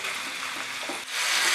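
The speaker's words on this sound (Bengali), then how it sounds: "এখন কিন্তু আমি মাঝারি আঁচে মাটনটাকে রান্না করছি, একটুখানি ফ্রাই মতো করে নেব।" Mutton frying in a pan over medium heat, a steady broadband hiss with soft bubbling pops, growing slightly louder near the end, close and continuous with no talk.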